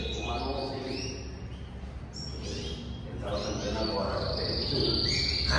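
A caged coleiro papa-capim songbird sings in short rising and falling whistled phrases with chirps, fairly close, over a constant low background hum, without any speech.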